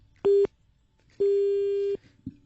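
Two steady electronic telephone busy-signal tones sound close by after a hang-up, one short and one longer, separated by a pause, with no voices.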